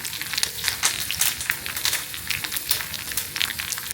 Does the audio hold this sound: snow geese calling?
no